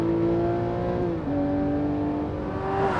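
Lamborghini Murcielago SV with a V12 engine, a loud sustained engine tone heard from close by, its pitch dipping briefly then climbing steadily again as the revs build.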